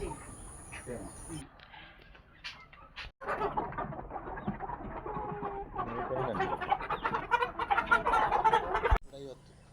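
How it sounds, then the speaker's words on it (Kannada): Chickens cluck and chatter busily nearby, a constant flock noise beneath people talking, with insects faintly buzzing in the background. "ನೋಡಿ ನಾವು ತಗೊಂಡ ಕೋಳಿ ಇದು"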